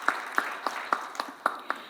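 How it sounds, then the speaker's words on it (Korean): A few people at a Korean panel discussion on semiconductors clap in sharp, evenly spaced single claps, about seven in two seconds, close and moderately loud over a quiet room. "그런 의미에서 우리 한번 박수 부탁드리겠습니다."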